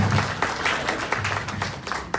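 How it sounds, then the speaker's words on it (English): An audience at a business presentation gives a round of applause, a steady patter of many hands clapping that holds for a couple of seconds at modest loudness. "Give him a big round of applause, everybody."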